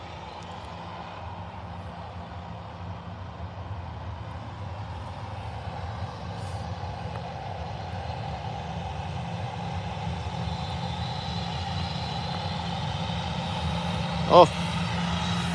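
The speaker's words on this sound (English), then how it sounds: "We'll hold for this Ryanair that's inbound" A Ryanair airliner inbound to Birmingham airport rumbles as a low, steady engine roar that gradually swells louder over fifteen seconds, with a brief sharp knock near the end.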